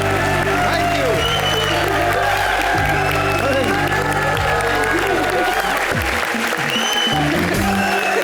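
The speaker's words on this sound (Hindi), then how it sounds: "आइए हमारी पार्टनर अदिति के लिए जोरदार तालियां हो जाए" Loud studio audience applause for a performer partner on a Hindi comedy show stage, sustained dense clapping with some cheering and whoops throughout, music and voices faintly underneath.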